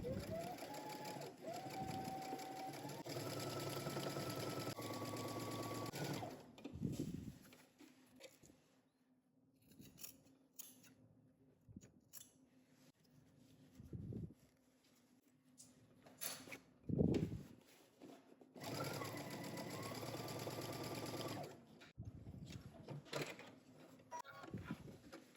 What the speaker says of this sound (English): you're gonna head to your sewing machine and you're going to understitch